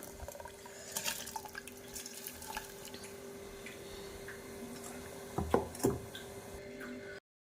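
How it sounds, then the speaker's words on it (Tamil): Water at a rolling boil in a cooking pot for lentils, giving a steady close bubbling hiss, with a couple of louder splashes and gurgles near the end and no talking. "தண்ணி நல்லா கொதிக்குது"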